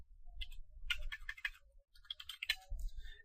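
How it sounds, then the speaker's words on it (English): Quick keystrokes tap out a command on a computer keyboard: two close, crisp clusters of clicks with a brief gap between them over a faint low hum. "So I'll just type ifconfig."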